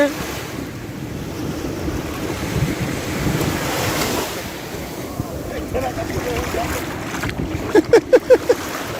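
Sea waves breaking at a beach in Bali, a steady broad wash of surf mixed with strong wind buffeting the microphone, continuous throughout, with a few short sharp sounds near the end.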